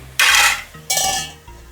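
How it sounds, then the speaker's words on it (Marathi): A metal lid clanks onto a cooking pot of onions salted to soften, two bright metallic clatters in quick succession, close and loud, with no voices. "पाच एक मिनटं जरा झाकण मारून ठेवू म्हणजे कांदा छान असा शिजेल"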